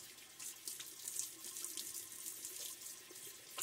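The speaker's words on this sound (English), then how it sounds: "so there we go, little face rinse" Water runs steadily from a bathroom tap while the face is rinsed after a shave. The hissing flow is soft and continuous, with small splashes, and no one speaks.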